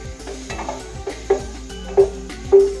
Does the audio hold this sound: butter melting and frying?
yes